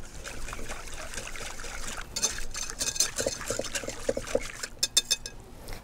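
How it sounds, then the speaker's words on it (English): Pizza dough liquid with oil, salt and fresh rosemary being whisked in a bowl, giving light, quick liquid sloshes and clicks that quicken into sharper, rhythmic strokes toward the end, close and moderately quiet with no talking. "and we're going to whisk again."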